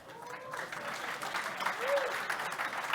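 Applause from a conference audience for a speaker at a crypto and NFT talk event, a steady, moderately distant wash of clapping lasting a few seconds with a faint voice over it.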